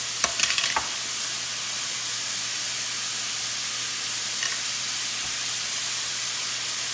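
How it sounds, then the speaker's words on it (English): Garlic oil hisses and sizzles in a frying pan with seared chicken, a close, steady fry with a few clatters and stirs at the start. "My pan is looking a little dry, so I might go in with just a little bit more garlic oil."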